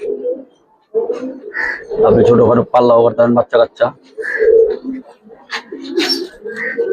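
Giribaz colouring pigeons, male and female, give low, throaty coos in short bursts, mixed in and around someone talking close by.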